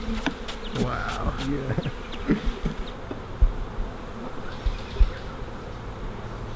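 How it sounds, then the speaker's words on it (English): A dense swarm of bees buzzes close by at a beehive in a continuous drone, with a few brief exclamations and scattered thumps over it. "That is a lot of bees."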